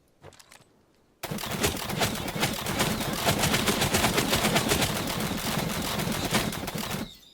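Sustained gunfire in Naraka Bladepoint, a dense, loud stream of rapid shots that starts abruptly after a quiet moment and runs for several seconds before cutting off.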